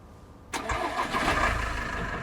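A truck engine in the video game Roadcraft cranks and catches about halfway through, after near silence, then settles into a loud, steady rumbling idle for the rest of the moment.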